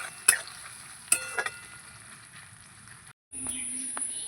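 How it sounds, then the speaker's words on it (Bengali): A large chopped onion frying in a pan gives a continuous soft sizzle, broken by a few sharp clicks and scrapes of stirring. A brief silent gap comes before the frying resumes. "পেঁয়াজকে একটুখানি আমি ভেজে নেবো ভালো করে"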